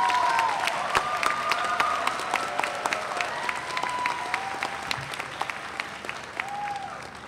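A commencement audience at a UCLA chemistry and biochemistry graduation claps steadily to welcome the speaker to the podium, a dense, sustained round of applause that slowly fades, with a voice faintly audible underneath.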